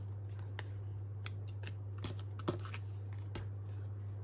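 Scissors trimming down paper journaling cards for a junk journal, heard as a handful of sharp, sparse snips over a steady low hum, close and fairly quiet.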